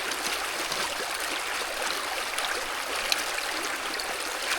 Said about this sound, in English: let's wash this mat over here real good